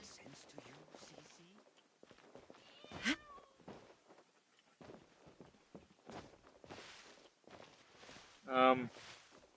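A cat meows during a game stream, with a sharp, loud cry near the end rising clearly above background voices and game sounds.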